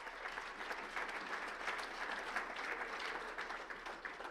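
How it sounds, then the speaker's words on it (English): Sustained audience applause at a chamber of commerce awards gala for the chamber's directors, a dense steady patter of many hands clapping with no voices over it. "give them a nice round of applause"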